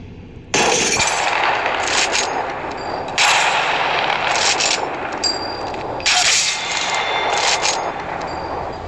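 Kraber sniper rifle fired in the mobile shooter Apex Legends Mobile, several loud, sharp cracking shots spaced a couple of seconds apart, each followed by a metallic ring over a steady background hum.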